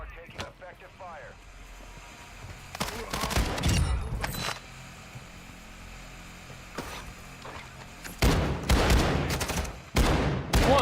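Scattered bursts of gunfire in Call of Duty DMZ, with short volleys that come and go, sharp shots at times, and talking over parts of it.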